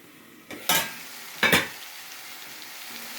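Potato chicken curry stirred in a pan: two short scraping, sizzling strokes of a spoon through the frying mixture, close and distinct, over a low background hiss.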